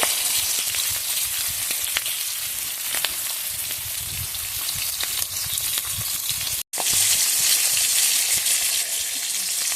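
Fish frying in oil outdoors for a fish curry. A steady, close hiss of sizzling carries on with faint occasional stirring, cut by one brief gap of silence partway through.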